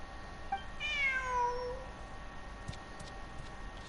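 A cat meows once in the Genshin Impact video game, a clear descending mew lasting about a second, heard alone over a faint steady background hum.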